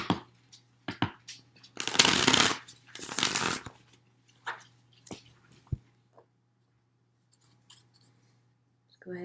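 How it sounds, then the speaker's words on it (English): Tarot cards being shuffled: a few brief riffles and taps, then two longer loud bursts of fluttering cards, followed by scattered soft handling clicks in a quiet room with a low steady hum. "I'm going to shuffle this about 3 times."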